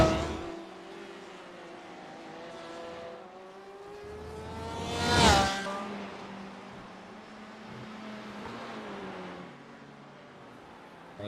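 Race cars circling Sebring International in a sim racing game, a tight pack of several engines droning and shifting pitch together, with one loud close car sweeping past midway before the drone settles back.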